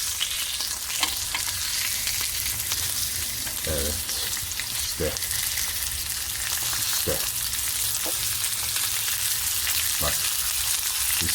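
Burger patties sizzle in a hot pan on a grill, a steady dense frying hiss. Faint clinks and scrapes of a spatula come through, and a voice speaks briefly and quietly.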